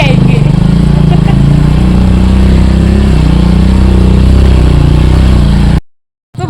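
A motorcycle engine runs loud and close during a ride on a paved road, a steady rumbling drone with clatter and wind, then cuts out abruptly near the end; a voice speaks over it.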